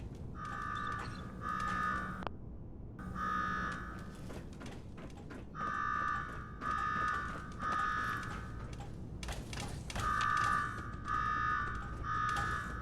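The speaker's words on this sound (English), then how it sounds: "Now go shut off that damn alarm." An electronic alarm in the video game Fallout 4 rings in repeated bursts of bright, steady tone, stopping and starting several times over a low background rumble.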